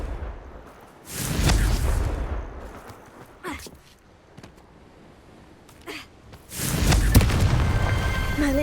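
Blasting-curse explosions from a Harry Potter video game, two heavy booming blasts a few seconds apart with rumbling tails and sharp cracks between them.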